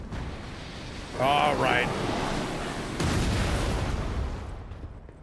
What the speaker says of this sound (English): I'm gonna get shot at by a cannon the whole time